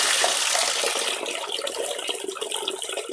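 Discoloured water runs from a household tap in a steady, hissing splash that is loud at first and eases slightly, with no voices.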